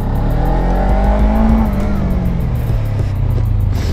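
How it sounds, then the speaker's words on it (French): A Suzuki GSX 250 R twin-cylinder motorcycle on its stock exhaust revs up close by, the engine note rising and falling in loud, rough bursts. "Le bicylindre, ça chante pas trop mal, même avec un échappement d'origine."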